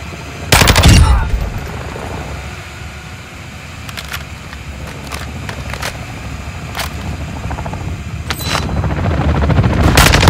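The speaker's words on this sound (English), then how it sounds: "Be ready for a gunfight." Gunfire in a Call of Duty DMZ gunfight, an opening loud automatic burst followed by scattered single shots and short bursts against a steady roaring ambience.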